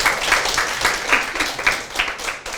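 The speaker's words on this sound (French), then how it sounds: "je pense que vous pouvez l'applaudir, Shaili." Audience applause fills the room with steady, dense clapping at moderate loudness, sustained throughout without a break.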